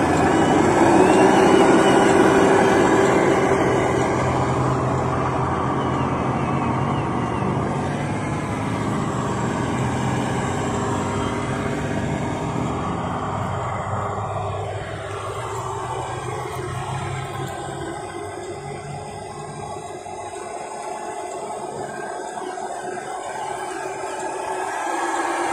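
An RC Hino model truck hauling a 36 kg load crawls in first gear, its electric motor giving a steady whining hum that drifts in pitch and slowly fades slightly, with no talking.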